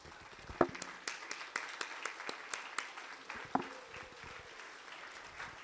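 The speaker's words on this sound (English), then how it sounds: "give a resounding applause to them because they have really done well" Panelists at an annual postgraduate conference receive applause from a modest audience, with individual claps standing out over a steady patter that gradually eases over about six seconds.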